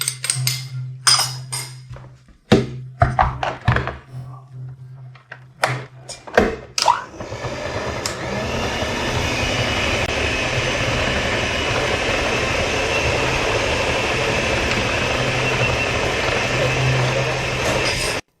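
A machine kneading minced meat for salami, starting with several sharp knocks and bangs, then settling into a steady, loud mechanical whir and churn that runs on to the end.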